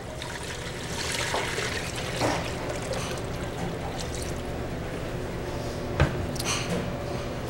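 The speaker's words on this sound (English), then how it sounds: "we're going to use about 4 quarts of water." About four quarts of water pour steadily into a container for a turkey brine, a continuous close splashing rush with a brief knock near the end.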